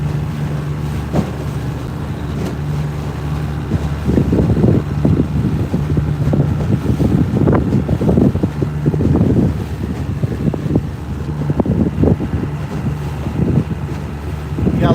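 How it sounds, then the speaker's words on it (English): Wind buffeting a microphone on a boat on Lake Texoma, a steady rumbling roar with gusty low thumps and a faint engine-like drone underneath, close and continuous. "Got a little wind out of the southeast."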